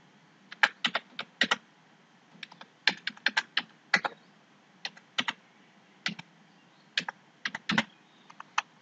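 Digits typed on a computer keyboard during online stipend data entry: close, crisp key clicks in irregular bursts and single taps, alone with no talking.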